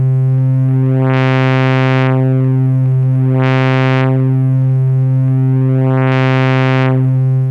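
A sustained FM synth tone from the SimpleXFM, with its triangle wave being reshaped by the modulation wheel. Its brightness swells and recedes in three slow sweeps as bright upper harmonics bloom and fade over a steady low fundamental. The tone is loud and continuous, with no voices.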